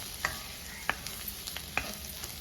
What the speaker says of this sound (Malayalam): ഇനി ഇത് നന്നായിട്ടൊന്ന് ഇളക്കി യോജിപ്പിക്കുക.